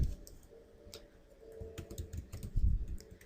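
A plate number being typed on a computer keyboard into a vehicle registration form, with a quick run of close, crisp keystrokes and clicks over a low background hum.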